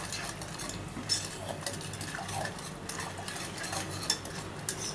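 Chutney cooking in a pan, with amchur powder and melted sugar being stirred in, gives soft steady scraping and light utensil clinks against the pan, fairly faint and close, with no talk.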